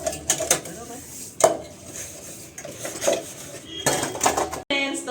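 Cooking pots and utensils are handled during washing, with several close metallic clanks and knocks spread irregularly between quieter stretches.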